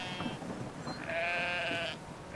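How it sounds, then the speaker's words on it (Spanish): A sheep bleats in the video game Brothers: A Tale of Two Sons, one long wavering bleat standing out clearly over a soft ambient game background, with no talk. "vamos a coger otra oveja más"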